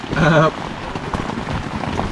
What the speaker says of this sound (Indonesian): Jadi pas banget selesai tendanya hujan langsung.